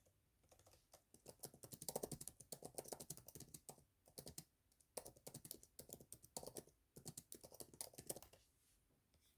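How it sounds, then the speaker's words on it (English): Rapid typing on a computer keyboard, keys clattering in quick bursts separated by short pauses. "You can hear me typing."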